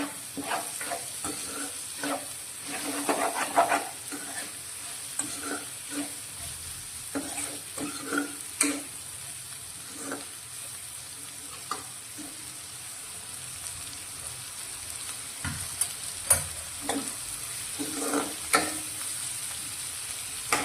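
Spiny gourd (kankoda) sabzi sizzles steadily in an open pan, with occasional scrapes and clicks from stirring over a continuous low frying hiss.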